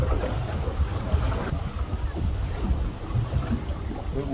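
A small boat is pushed along by the wind on open water, with gusty wind buffeting the microphone and a low rumble of water against the hull, continuous and close.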